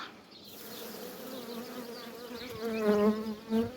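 Honey bees buzz in an opened hive during brood inspection, a close, steady humming drone with overlapping wingbeat tones that swells louder near the end, with no talk over it.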